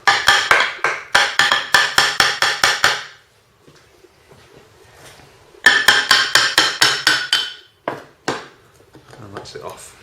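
Rapid bursts of metallic hammer strikes on a swing axle gearbox axle, two runs of about a dozen sharp taps each, separated by quieter shuffling and a few isolated knocks.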